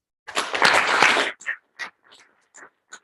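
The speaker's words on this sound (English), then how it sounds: "we give one more round of applause for organizers" Applause from an audience at a black-hole microstructure physics conference, thanking the organizers: a dense burst of clapping for about a second that breaks into scattered, fading individual claps.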